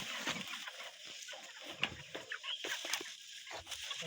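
Broiler chickens on a farm cluck softly in a scattered chorus of short, low calls, close to the microphone and fairly quiet, with no talking.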